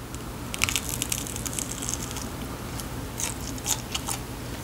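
Biting into and chewing food soaked in sauce, soft and not crunchy, with crackly chewing bursts close to the mic over a steady low hum, no talk.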